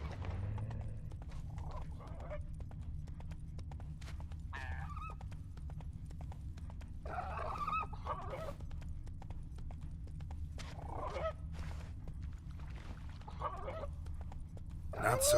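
A horse in The Witcher video game clip-clops at a steady pace, with several faint whinnying and neighing calls in between over a low ambient background and no speech.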